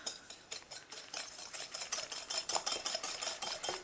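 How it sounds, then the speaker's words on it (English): Rapid rhythmic clicking of a whisk against a bowl while beating a sugar mixture for a gluten-free almond flour cake, close and steady, with no talking. "And whisk these together."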